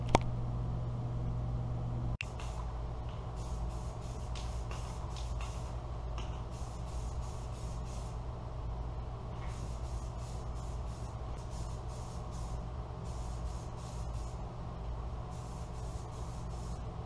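Rust-Oleum Rusty Metal Primer is sprayed onto a 3-point hitch snow plow in repeated short hissing bursts from an aerosol can, spaced a second or so apart over a faint steady background hum.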